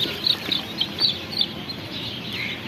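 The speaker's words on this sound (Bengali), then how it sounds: "মুরগিগুলো খাবার খাচ্ছে" Several chickens cluck softly and intermittently while eating, short scattered calls close by, with a low background murmur and no talking.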